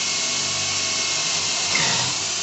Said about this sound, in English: finish drilling through